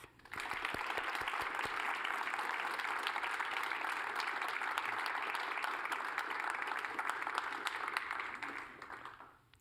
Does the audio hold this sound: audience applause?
yes